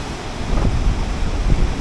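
Ocean surf breaks against the rocks at a natural pool on the Tenerife coast. A loud, rough rush of water is mixed with gusting wind on the microphone, with two heavier surges.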